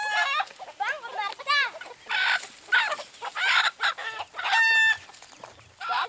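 Chickens cluck and squawk in a Hamar village in Ethiopia, with a rooster-like crow and agitated calls amid a lively flurry of close, overlapping bird sounds.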